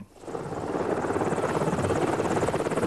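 A helicopter drones steadily and loudly throughout, its rotor chop pulsing in an even rhythm close by, with no voices over it.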